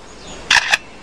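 A lyrebird in the forest mimics a camera shutter, giving two quick bright clicks close together, loud and clear against quiet forest background.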